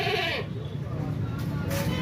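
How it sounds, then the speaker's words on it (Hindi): Goat bleating at a livestock market in Gujranwala, a short wavering cry near the start, with market voices and people talking around it. "ए जेड़ी है बकरी"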